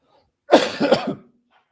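A single short, harsh cough burst, close and fairly loud, with a couple of rough pulses before trailing off into silence, in a dry room during a talk.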